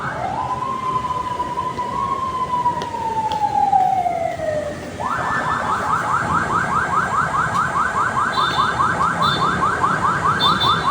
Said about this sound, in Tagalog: Wow, what's that? Ambulance.